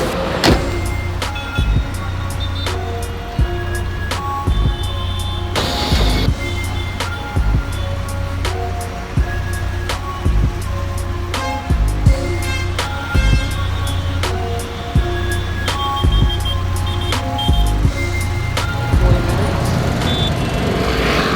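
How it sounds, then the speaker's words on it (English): Road traffic in Antananarivo, Madagascar rumbles on steadily with a low engine drone, punctuated by repeated short clicks and thumps from inside a vehicle, and people talk faintly over it. "Tana is not Tana without traffic."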